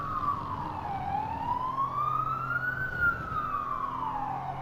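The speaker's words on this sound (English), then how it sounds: "Now we're hearing fire engines at the moment." A fire engine siren wails outside near a racetrack at Laguna Seca, its pitch sweeping slowly up and down in a long continuous rise and fall, fairly loud over a low background rumble.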